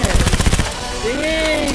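Rapid automatic gunfire from the Cyberpunk 2077 game on PC, a fast burst of loud shots for the first half second, then a sustained tonal whine and ringing as the firing stops, with no talking over it.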